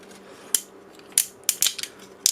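Ratcheted shoulder joints on a die-cast toy T-Rex robot (Seju Dino Force DN-02) click sharply, about six close, crisp ticks in an uneven rhythm over quiet background, with no voices.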